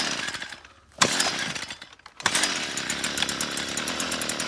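A gas brush cutter engine fires up with a sharp start, cuts out, then catches and keeps running with a rough, buzzing two-stroke drone close by.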